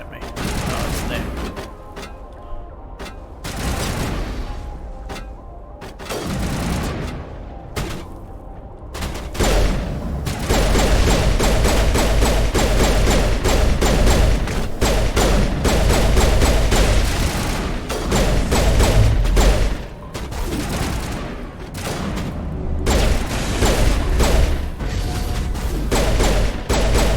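Heavy weapons fire in a Mass Effect firefight, repeated bursts and volleys of shots with occasional booms, loud and dense for long stretches, with players talking intermittently over the combat.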